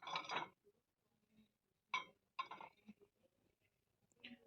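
Porcelain dinner plates clink together as they are handled in a shop, a few separate clattering bursts with quiet gaps between them.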